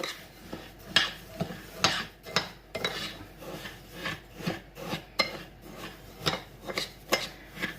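Couscous grains stirred with salt and a spoonful of oil, giving a steady series of close, gritty scraping and rasping strokes in a regular rhythm with no talking.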